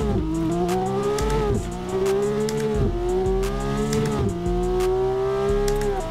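Ken Block's 1,500-horsepower Hoonipigasus Porsche race car is driven on the Nordschleife in Assetto Corsa. The engine roars loudly and steadily through rising revs, with several quick dips at gear changes and no talking.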